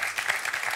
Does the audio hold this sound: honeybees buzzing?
no